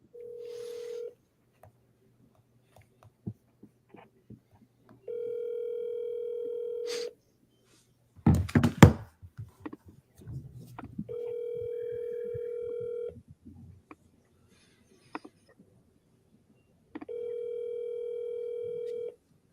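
A telephone call rings out unanswered, with four long electronic ring tones spaced evenly a few seconds apart, clear and close through a handset line, and a brief burst of clatter and faint noise between the second and third rings.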